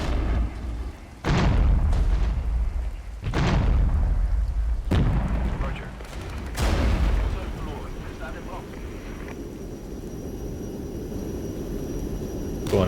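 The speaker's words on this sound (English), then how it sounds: "We'll do some F-16 cluster bombs." Cluster bomb strikes from F-16 jets in the war strategy game Regiments land as several heavy booming blasts in quick succession, each with a rumbling tail, followed by a lower, continuous roar of aftermath.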